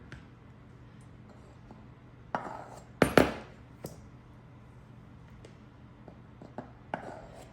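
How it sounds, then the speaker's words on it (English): Three cups of flour being measured out for herb biscuits in a home kitchen, with a few sharp clinks and scrapes of a measuring cup against a bowl over a quiet, steady room hum. "I'm gonna measure my 3 cups of flour."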